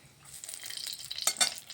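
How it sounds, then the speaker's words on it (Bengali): Two bay leaves and whole garam masala sizzle briefly in hot oil, a soft crackling hiss with a couple of sharper spits near the end, close and fairly quiet. "একটু ভেজে নিচ্ছি গরম মশলা আর তেজপাতাটা।"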